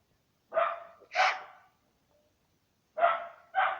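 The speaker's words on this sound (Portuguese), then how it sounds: "Ô, meus cachorros, filha da mãe latindo." Two pet dogs at home bark in two quick pairs, sharp and fairly close. A short pause separates the pairs, and there is no talking.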